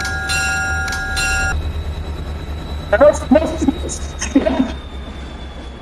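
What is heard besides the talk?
train running in a video game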